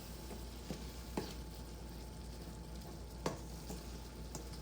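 Ground beef simmering in taco seasoning is stirred in a pan: a faint, low bubbling sizzle broken by a few sharp spoon taps and scrapes.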